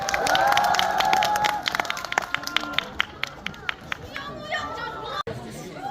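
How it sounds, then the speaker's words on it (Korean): A cinema audience at a film stage greeting applauds, with distinct claps standing out over chatter and voices, the clapping thinning out toward the end while people keep talking. "다시 한번 뜨거운 박수 부탁드리겠습니다"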